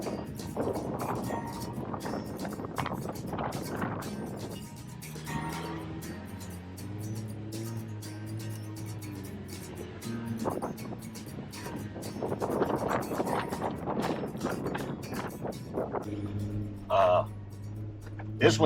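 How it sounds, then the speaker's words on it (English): Strong wind buffets the microphone with a steady rumbling roar throughout on an off-road Jeep trail in Texas, while a person talks over it on and off. "and it is really windy"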